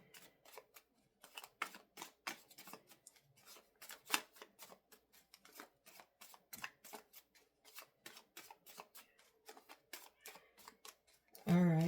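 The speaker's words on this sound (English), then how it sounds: "It's small, I can't shuffle it right." Rapid papery riffling and tapping of a small tarot card deck being shuffled, close and continuous, with quiet talk and a louder knock at the end.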